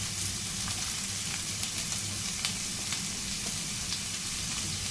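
Finely chopped onions fry in a pan with cumin for a paneer gravy, giving an even, close sizzle with faint crackles and occasional stirring scrapes, and no voices.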